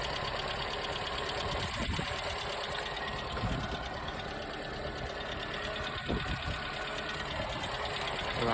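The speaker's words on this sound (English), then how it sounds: "Sounds like idling nicely." A Ford Capri or Escort Mk3 engine idles steadily after an ignition system service, a close, even mechanical churn with a faint rhythmic tick running throughout.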